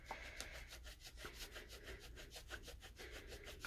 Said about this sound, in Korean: 다리미 코팅은 상하지 않으면서 여기 인견으로 해서 때처럼 다 벗길 수 있습니다